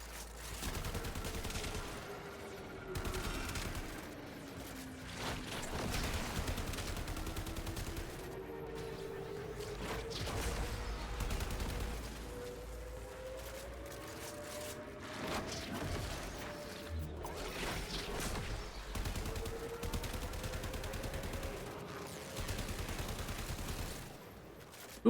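Sustained gunfire in the shooter game Warframe: dense, overlapping bursts of shots rattle almost nonstop for about twenty-five seconds, loud and continuous over a droning game background.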